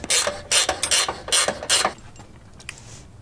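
A ratchet loosens a control arm bolt on an Alfa Romeo Stelvio, with about six quick, loud, close clicking strokes followed by a few faint clicks.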